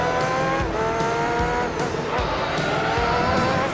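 A race car engine in the Gran Turismo 3 video game revs and climbs in pitch as it accelerates, with tires squealing and skidding through a corner, loud and close throughout.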